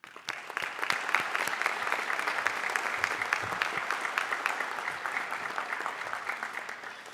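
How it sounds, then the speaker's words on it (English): An audience at a high school National Honor Society induction ceremony gives a round of applause: dense, steady clapping that holds for several seconds, with no talk over it. "Give yourselves a round of applause, please."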